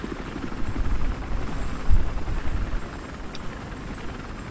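A helicopter in the video game Battlefield Hardline: a heavy, low rotor rumble that swells midway and then eases off, loud and close, with no talk over it.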